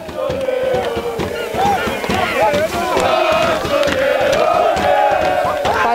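Spectators at a second-division football cup final on Tinos, Greece, clap and cheer loudly and steadily from close by, with shouting voices mixed into the roar of the crowd.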